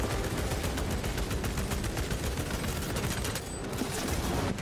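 Rapid, sustained gunfire in the Warhammer 40K Space Marine 2 video game, dense bursts of automatic shots running back to back at close range, loud and unbroken by talk.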